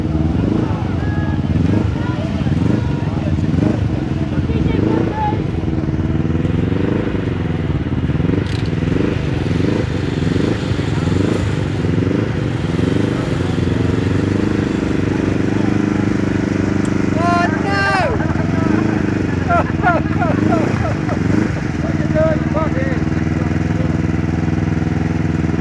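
A Triumph motorcycle crosses a creek during the Laverda Australia Rally, its engine droning steadily and rising and falling in pitch as it works through the water, with people cheering and talking over it.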